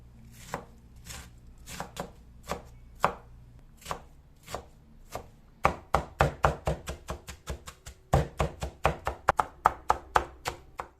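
A knife chops spinach on a cutting board in quick, crisp strikes, slower and sparser at first, then speeding into dense bursts of rapid chopping, close and clear with no talking.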